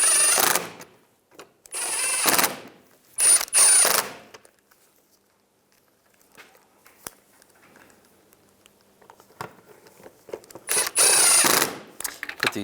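Ratchet tightening screws on a fog light cover of a 2010-2017 Chevrolet Equinox, several bursts of rapid close clicking separated by quiet gaps and a few light taps.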